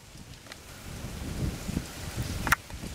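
Steady outdoor rain hisses as a broad wash, with a few louder patters and a brief sharp spatter near the end, moderately loud and with no talk over it.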